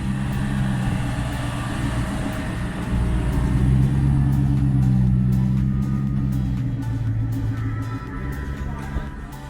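A Jeep rumbles past at a Jeep Beach event, its engine swelling louder as it nears and then fading, a steady motor drone with light background crowd noise.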